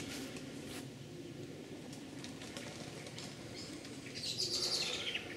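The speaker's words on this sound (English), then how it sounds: "Lots of birds." Birds chirping faintly over a steady outdoor rumble at a bird nature reserve near the Old Warden Tunnel, with a brighter burst of twittering calls near the end.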